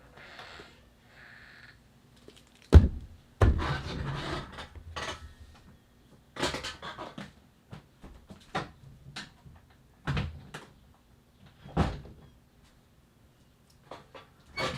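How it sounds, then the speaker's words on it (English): A wind-blown door with a broken latch knocks and thuds in scattered bursts, with sharp wooden bangs and rattles separated by quiet gaps in an indoor room. "That door doesn't have a latch that works, so the wind just blows it open."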